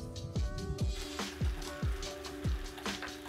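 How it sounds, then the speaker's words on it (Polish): Rain beginning to fall at a house where facade work is underway, heard as about five distinct, fairly close plopping drops landing one after another over a few seconds, with no talk. "Zaczęło padać, przymusowa przerwa."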